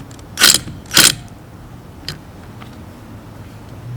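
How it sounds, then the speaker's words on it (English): Ratchet turning a socket on a 10mm bolt on a Honda CT90 engine top end, two quick bursts of clicking near the mic and then a faint single tick over quiet background. "you can now place the socket on the 10mm bolt and tighten it"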